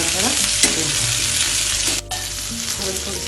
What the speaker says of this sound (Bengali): সবজিগুলো আমি আস্তে আস্তে এগুলো নাড়াচাড়া করবো।